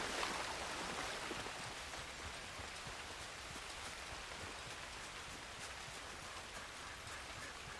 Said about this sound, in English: Oh, the rain probably also doesn't help.